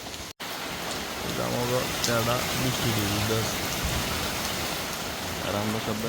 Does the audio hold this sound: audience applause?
no